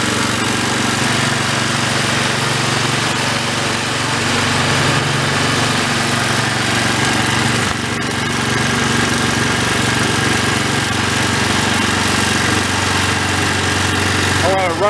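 An old Homelite pressure washer engine that sat unused for 20 years runs near idle, a loud, close, steady drone that carries on without a break.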